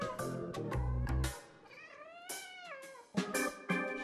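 A house cat meows repeatedly, with several clear, drawn-out calls and some rising, wavering cries sounding near, alone and without any talk.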